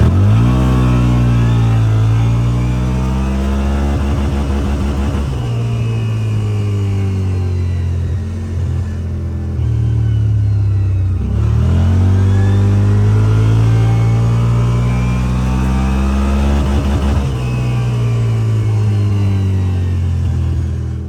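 A heavily loaded CFMOTO UTV with a cage and tuned clutch accelerates hard in low range, its engine revving up in repeated rising sweeps, backing off and pulling again, loud and close with no talking.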